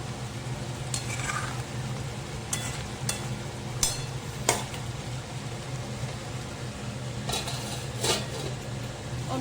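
Fish pieces for a papaya and fish curry sizzle steadily in a pan, close by and continuous, with intermittent clinks and scrapes of a utensil stirring against the metal, no talking.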